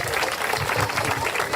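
Applause from a crowd at a Friday night Shabbat gathering beside the Gaza Solidarity encampment at UCSD, a short burst of steady clapping heard under a voice talking.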